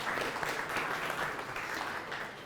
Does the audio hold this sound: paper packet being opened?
no